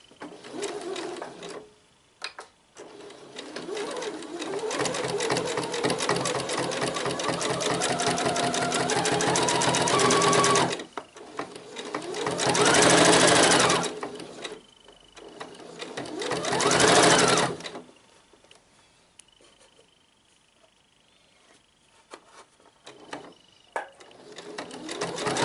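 A sewing machine topstitches a dress pocket with a guide foot, running in long steady whirring bursts with short pauses between, then a few brief quieter runs near the end amid light handling noise.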